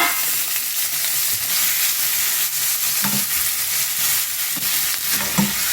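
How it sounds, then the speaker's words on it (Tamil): Tomato, onion, ginger, garlic and curry leaves being sautéed for an okra gravy, with a steady close sizzle and hiss in the pan and occasional stirring scrapes. "தக்காளி வெங்காயம் இஞ்சி வெள்ளை பூண்டு கருவேப்பிலத்தில் எல்லாம் போட்டு வதக்கலாம்"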